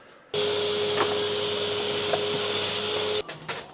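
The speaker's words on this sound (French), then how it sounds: "Faut passer un coup d'aspirateur dans les trous," A vacuum cleaner runs steadily and close by while cleaning holes in a home gym, its loud constant whine broken by a couple of faint knocks, then cutting off abruptly near the end.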